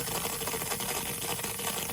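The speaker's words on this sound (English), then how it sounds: "That's the air releasing from the valve." Air hisses steadily out of an outdoor spigot's bleeder valve as the screw cap is removed during winterizing, a continuous bright, close hiss that holds at an even level throughout.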